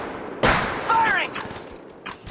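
Gunfire in the battle royale game Apex Legends, a sharp shot followed by a burst with whining ricochet-like tones, then softer shots trailing off, with a voice briefly heard.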